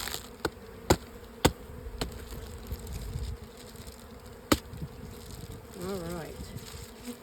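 Honeybees droning around an open hive, a soft steady buzz under a few sharp clicks and taps nearby, with a brief spoken voice near the end.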